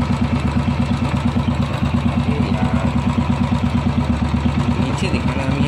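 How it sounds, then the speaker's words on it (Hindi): A Royal Enfield motorcycle idles steadily up close, its single-cylinder engine thumping in an even, rapid beat throughout, loud and continuous while someone speaks over it. "बाइक को स्टार्ट रखना है"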